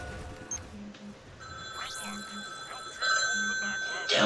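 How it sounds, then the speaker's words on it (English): A phone call rings in the Transformers: Rise of the Dark Spark video game, a short repeated electronic ring in a few even bursts over game background sounds. "Oh, phone call."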